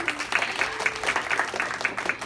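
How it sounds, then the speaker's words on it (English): An audience gives a round of applause for Jane, newly made a team leader, at a business presentation: a short, moderately loud patter of many hands clapping steadily throughout. "Give her a round of applause"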